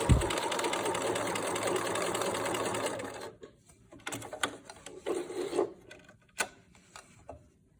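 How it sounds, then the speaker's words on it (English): A sewing machine stitches rapidly off the end of a two-color fabric mask, a close, continuous whir for about three seconds, then stops, leaving soft fabric rustling and handling noises. "I'm gonna sew right off the end."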